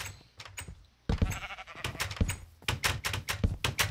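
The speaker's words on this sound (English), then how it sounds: "Oh, there's two sheep trying to get in this place." Minecraft sheep bleat near a house under construction, a run of short, repeated bleats in quick succession after a quiet start, with no talking.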